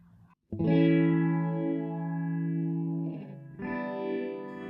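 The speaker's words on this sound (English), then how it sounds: "standard phasing sound, very nice" An electric guitar chord rings out with a sweeping, swirling Boss PH-1 phaser plugin effect, then a second strum continues the slow whooshing modulation.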